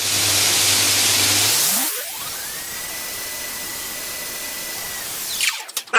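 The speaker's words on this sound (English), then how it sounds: "What I'm going to do now is to profile the knife around the edge while we've got this flat platen with a 40 grit" A belt grinder with a coarse 40 grit belt running on a flat platen while a knife blade is profiled around its edge: a steady loud motor and abrasive whine that drops and shifts as the blade is pressed in, then winds down.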